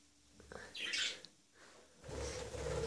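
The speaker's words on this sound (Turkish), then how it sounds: "evde aslında 3 kuş gerçekten çok ses yapıyorlar" Three pet budgerigars chirp and chatter in short bursts indoors, close by and fairly loud, with brief quieter gaps between the flurries of tweeting.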